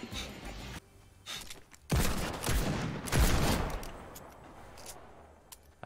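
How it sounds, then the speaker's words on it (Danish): Gunfire in the battle royale game Fortnite: a quiet opening, then two loud bursts of rapid shots around the middle, trailing off into quieter crackle, with no talking. "Og så blev vi skudt efter."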